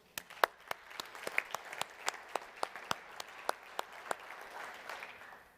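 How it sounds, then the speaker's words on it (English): Scattered applause from a conference audience, a modest crowd clapping with distinct individual claps spread through a steady patter, moderately near and fairly quiet. "a round of applause for putting this all together"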